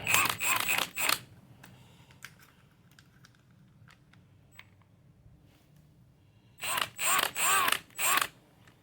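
Clamps on a Lexus intake tube loosened with an 8mm tool, bursts of quick ratcheting clicks at the start and end, close and crisp, with faint scattered taps in between.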